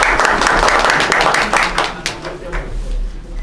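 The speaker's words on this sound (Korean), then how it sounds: "박수 한번 부탁드릴게요." Audience applause at a seminar on the DJI Spark drone, steady dense clapping from a crowd filling the room throughout, fading slightly toward the end.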